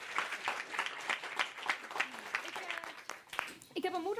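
Audience at a live Dutch stage show giving warm applause: brisk clapping from a small crowd with talk over it, fading near the end as a voice takes over.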